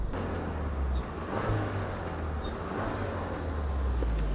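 A Kia Stinger 2.5-liter turbo engine runs with a steady, deep exhaust drone and a faint whirring hum, holding fairly constant with slight swells, no voices.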